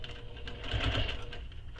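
A sewing machine stitching through handbag fabric under the presser foot, a steady close mechanical whirr running alone for a moment.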